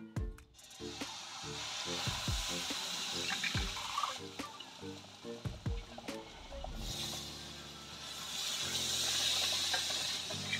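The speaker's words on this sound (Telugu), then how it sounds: "ఇక్కడ వాటర్ అయితే వేసేసుకుంటున్నాను నేను." Cold water poured into a hot pan of fried ragi flour and upma rava with salt, giving a steady hissing, splashing pour that runs for about ten seconds over clattering kitchen sounds.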